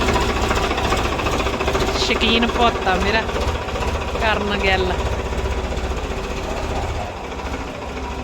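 A tractor engine chugs loudly and steadily close by throughout, while someone talks over the rumble.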